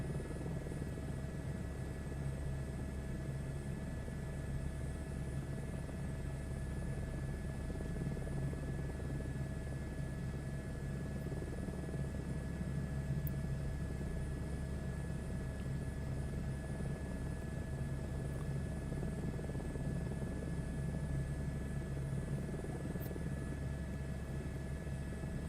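A helicopter flying on approach at about 130 knots, heard from inside as a steady, loud rotor and engine drone with a constant whine that holds unchanged throughout, with no voices.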